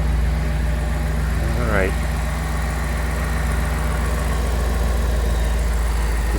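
A car engine idles steadily while it warms up, giving a constant low rumble close by. A brief rising whine comes partway through, and a person speaks briefly over the idle.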